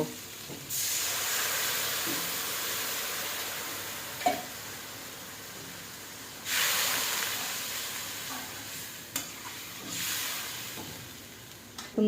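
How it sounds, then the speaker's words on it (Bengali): Water poured into ginger-garlic paste frying in a pan for a Bengali raw banana and hilsa fish curry sets off loud bursts of sizzling and steaming hiss, rising sharply three times and fading between, close and with no talk. "এখানে আমি এখন এক কাপ পরিমাণ পানি দিয়ে দেব"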